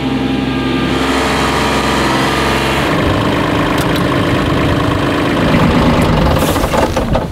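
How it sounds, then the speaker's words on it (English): A tractor engine runs on a homemade raft, a steady mid-low idling drone that shifts pitch partway through and stays loud and close, with no talk. "Clementine, the tractor can handle anything."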